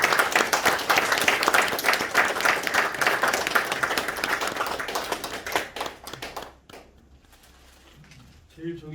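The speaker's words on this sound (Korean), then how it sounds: "축하의 박수" An audience applauds at a Korean theatre award and scholarship ceremony, dense clapping holding steady for about six seconds before thinning to scattered claps and quiet room noise.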